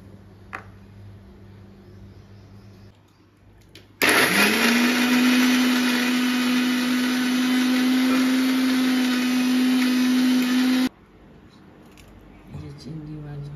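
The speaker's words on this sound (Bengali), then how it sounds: "আদা কাঁচা লঙ্কা, কাজু বাদাম একসঙ্গে দিয়ে বেটে নিই।" Ginger, green chillies and cashews whir in an electric blender, a loud steady grinding roar running for about seven seconds between quieter kitchen moments before and after.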